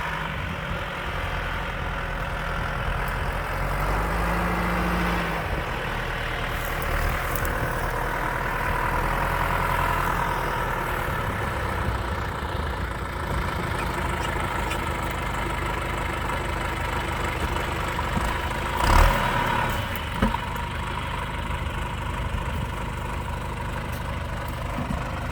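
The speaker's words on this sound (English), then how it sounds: "My husband is on the tractor." A farm tractor engine runs steadily nearby, a constant mid-low rumble that holds through the whole stretch with one brief louder knock near the end.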